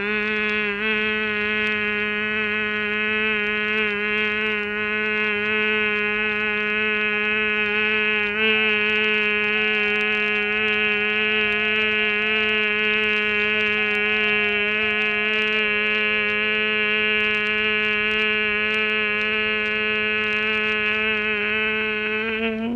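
A person practicing Bhramari pranayama breathing hums a long, steady nasal drone in imitation of a bumblebee's buzz, one sustained tone lasting over twenty seconds with only slight wavering in pitch, heard alone without talk.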